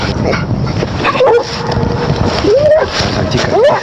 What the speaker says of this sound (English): they didn't really see the guy or the dog until the dog barked